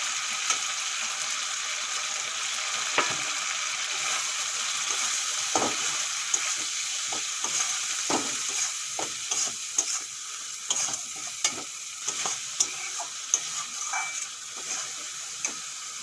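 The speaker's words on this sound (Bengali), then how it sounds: "ভালো করে মশলা কষিয়ে নিয়েছি" Ground cumin, coriander, turmeric, Kashmiri chilli powder and salt frying with prawns in a pan, a soft continuous sizzle broken by frequent clicking spatula scrapes that grow busier toward the end, close and without speech.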